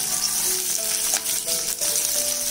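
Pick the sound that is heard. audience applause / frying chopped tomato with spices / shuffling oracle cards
frying chopped tomato with spices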